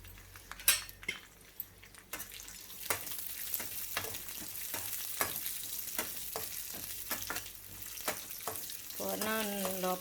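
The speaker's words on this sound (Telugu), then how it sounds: "ఇందులో కొబ్బరి ముక్కలు, కిస్మిస్, బాదం పప్పు, జీడిపప్పు," Coconut pieces, raisins, almonds and cashews fry in hot ghee with a steady sizzle, punctuated by repeated scrapes and clinks of a spoon stirring the pan, close and moderately loud throughout.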